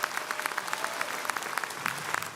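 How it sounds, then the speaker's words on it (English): Graduation ceremony audience clapping in a steady, dense round of applause, fairly close and evenly sustained with sharp individual claps standing out, no talk over it. "I think that deserves another round of applause."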